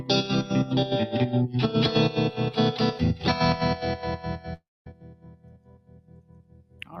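An electric guitar runs through a Universal Audio pedal's Trem 65 tremolo setting, its chords pulsing in a steady, choppy on-off rhythm, then falling silent before a quieter strummed passage continues to pulse.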